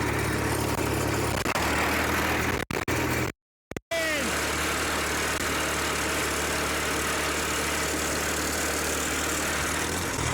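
A 1938 Farmall F-20 tractor runs in road gear with a loud, rough, continuous engine drone, cut by a few brief dropouts early on, then rumbling steadily at cruising speed.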